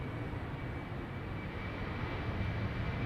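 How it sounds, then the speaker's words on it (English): An Embraer 190 airliner flown by German Airways for KLM departs Amsterdam Schiphol, giving a steady, broad jet-engine roar that holds level and close the whole time, with no talk. "This is an Embraer 190 going to Bremen, German Airways, flying on behalf of KLM"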